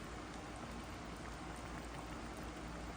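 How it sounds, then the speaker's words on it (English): A pot of chicken wings on a stove coming to a boil gives a steady, dense bubbling hiss, continuous and fairly quiet throughout with no voices. "now that it's getting to a boil, I'm going to turn it down and cover it"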